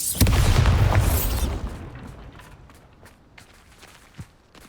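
A booming blast from a Bombarda spell in the Hogwarts Legacy video game bursts loudly at the start, then rumbles away into quieter scattered debris and footsteps.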